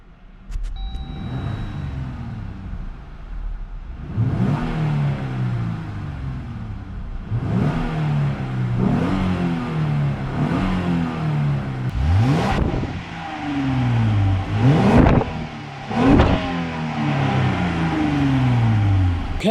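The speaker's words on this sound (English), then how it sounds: "here is the startup of the factory exhaust. So you really can't hear anything at all. Give her a few revs." A Jeep Gladiator on its factory exhaust starts up, then revs several times in rising and falling sweeps, each rev swelling and easing back to a low, fairly muted idle, close by.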